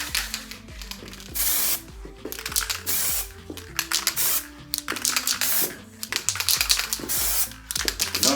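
Repeated bursts of aerosol spray paint hiss onto a countertop being faux-marbled, short and long blasts alternating with brief pauses, close and loud, with soft handling noises between.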